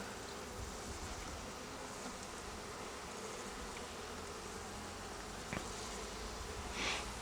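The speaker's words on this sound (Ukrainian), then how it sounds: "Бджолу я струсив." Bees buzz in a dense, steady hum while a swarm is shaken off into a hive, the drone continuous and fairly close with a soft knock near the end.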